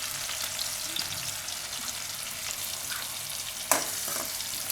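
Garlic, green chillies and asafoetida fry in hot oil in a home kitchen pan, a steady close sizzle with a sharp clatter of stirring near the end, and no voices.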